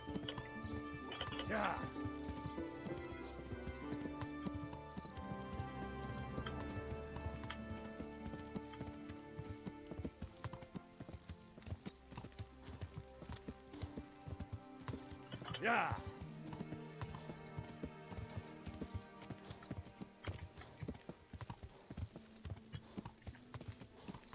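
Horse hooves clip-clop steadily in the medieval game Kingdom Come: Deliverance, with rhythmic, moderately close hoofbeats running throughout, a couple of brief whinnies, and someone talking over the top much of the time.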